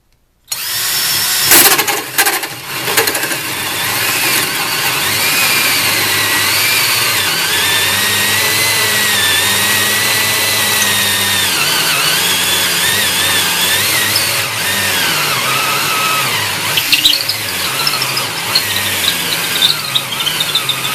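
An 18-volt Harbor Freight 1/2-inch cordless hammer drill whines steadily for a long stretch as a hole saw grinds through wood, the pitch dipping and straining at times, with no talking.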